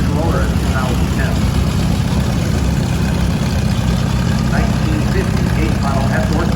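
A 1952 vintage tractor engine runs steadily at close range in an antique power parade, a constant low rumble throughout with voices talking over it.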